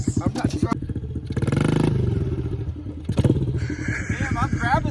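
A Honda ATC70 three-wheeler fitted with a CRF110 engine runs close by, its motor rising and falling in uneven revs while people talk over it.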